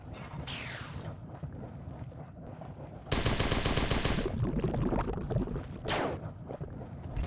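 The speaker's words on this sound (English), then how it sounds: "Maybe I'll just use my assault rifle here." Assault rifle fire in the video game Marathon 2 comes as loud, continuous rattling bursts, with one long sustained burst in the middle and shorter ones around it over game noise. No one speaks.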